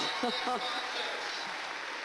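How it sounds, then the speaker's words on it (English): Cheering and applause from a large gun dog crowd at the Crufts 2014 dog show, greeting a winning standard poodle, a dense continuous roar of voices throughout. "to hear such cheers from essentially a large gun dog crowd, tremendous"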